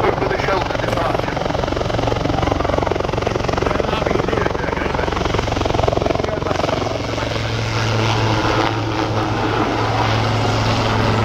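Royal Navy Lynx Mk8 helicopter flying backwards during an airshow display at Cosford, a loud continuous rotor and turbine roar with steady throbbing, up close, while someone talks over it.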